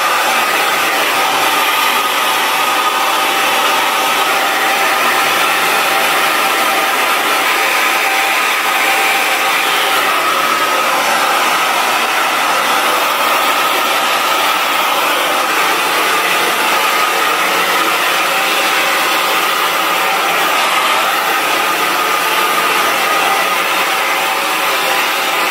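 A hair dryer with a diffuser attachment drying curly hair, a loud, steady, unbroken whooshing blow that holds the same level from start to finish with no talking.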